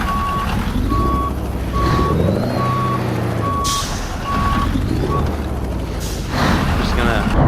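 Steady reversing beeps sound from a Kenworth T680 heavy-haul truck in American Truck Simulator, repeating evenly over a loud rumbling engine, with bursts of air hiss near the end.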